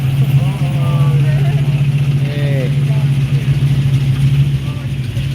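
Truck engines idle and rev at a Cars and Coffee meet in El Dorado Hills, a loud steady low rumble with rising and falling revs and someone talking over it.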